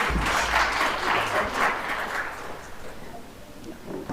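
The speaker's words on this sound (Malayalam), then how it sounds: "കൈയടിച്ച് നമുക്ക് നന്ദി പറയാം." Applause from a congregation at a church retreat, a broad wash of clapping that swells loud, then slowly thins and fades over several seconds.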